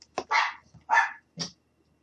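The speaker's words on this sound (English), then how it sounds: "I'm sorry y'all about my dogs barking" Dogs bark at home in three sharp, close barks in quick succession, then fall silent.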